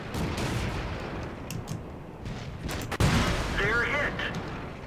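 Tank cannon shots in World of Tanks from a BT-7 light tank fighting a medium tank: a sharp report near the 3-second mark over steady battle noise and engine rumble, with earlier dull thuds and a whining tone afterward.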